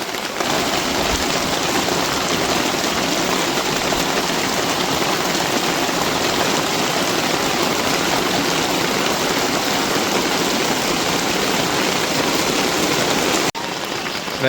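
Rainwater runs and pours past the wall of a tribal family's house during a downpour, making a loud, unbroken hiss of rain and flowing water that fills the whole stretch and dips briefly near the end, with no voices.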